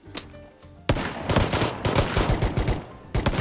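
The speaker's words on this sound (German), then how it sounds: "ich habe einen Schalldämpfer auf meinem Revolver drauf" Rapid bursts of video game gunfire from a silenced revolver crack close and loud, an uneven run of shots after a brief quiet opening, with no talk over them.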